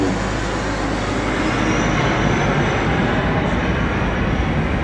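Airshow aircraft flying past in landing formation with flaps and gear extended, a steady loud engine roar that holds unbroken throughout.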